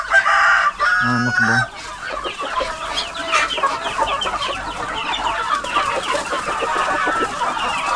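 Rooster at a farm feeding area crowing loudly in the opening seconds, followed by steady clucking and scratching of several chickens with a voice speaking briefly.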